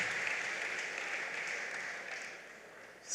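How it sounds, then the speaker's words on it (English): Audience applause at a school graduation and achievers ceremony, a steady wash of many hands clapping at moderate distance that holds evenly for a few seconds before tapering slightly. "Let's give her a round of applause"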